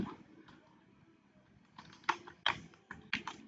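Fingers tapping on a computer keyboard, quiet and close, starting as soft scattered clicks, then sharper, louder keystrokes in short irregular clusters, with no voice over them.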